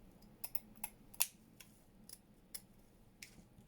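Scissors cutting fabric embellishment strips down the middle, giving faint, sparse snips and small clicks at irregular intervals against a quiet background.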